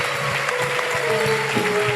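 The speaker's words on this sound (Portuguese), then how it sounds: "Se você crê nisso, aplauda o teu Deus" Church congregation clapping steadily during a sermon, a dense continuous wash of applause with a faint tonal hum underneath.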